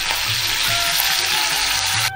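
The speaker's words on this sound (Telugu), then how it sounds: "ఇప్పుడు ఒక మూకెడ్లో ఆయిల్ వేసుకుని కరివేపాకుతో తాలింపు వేసుకోండి" Curry leaves hiss and crackle in hot oil in a small pan, a dense, steady frying sizzle for a tempering for coconut mango chutney, close and continuous with no voices.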